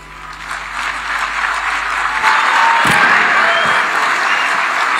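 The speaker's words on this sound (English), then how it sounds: "Another round for applause to Irungu Kanata." Audience applause filling a hall at the opening of a devolution conference, a sustained dense clapping wash that swells and holds steady for the whole stretch, loud and close, no voices.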